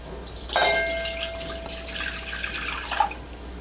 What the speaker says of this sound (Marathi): आता इथे मी पातेलं ठेवलेलं आहे त्याच्यामध्ये